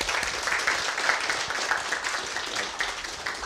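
An audience at the Matsue Ruby Kaigi 06 live-coding event applauds, a steady dense wash of many hands clapping throughout, fairly close and even in loudness.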